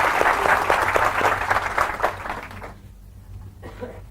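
Audience clapping at a Hindi sales training session, a dense burst of many hands that fades out after a couple of seconds, leaving a quiet room before a short voice at the end.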